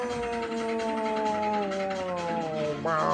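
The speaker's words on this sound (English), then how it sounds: "Sirens every fucking 10 minutes." Several sirens wailing steadily in a residential area, long sliding tones overlapping throughout with a fresh rising wail near the end, fairly close and loud.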